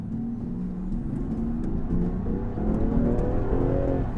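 A turbocharged six-cylinder 2020 Land Rover Defender First Edition SUV accelerates from inside the cabin, its engine note climbing steadily in pitch as it pulls, with a continuous loud whirring drone and no talking.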